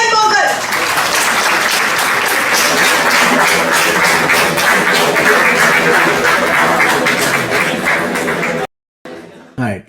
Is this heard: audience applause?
yes